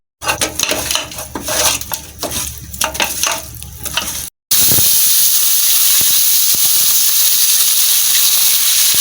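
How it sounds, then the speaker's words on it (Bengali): Fish seasoned with salt and chili powder fries in a pan. Clattering pan and utensil sounds come first, then a loud, continuous, close sizzle fills the rest. "তাহলে মাছ ভাজাটা একটু ভালো হবে"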